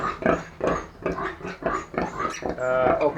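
A sow and her newborn litter of six live piglets grunt and squeal together in a close, continuous chorus of overlapping squeaks and snorts.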